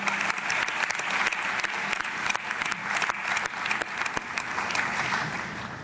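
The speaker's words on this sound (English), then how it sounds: "can we clap hands for the CAF Presidents as well?" Audience applause for the CAF President at the 47th CAF Ordinary General Assembly in Kinshasa, a dense, steady ovation from a large hall crowd that runs loud and unbroken throughout.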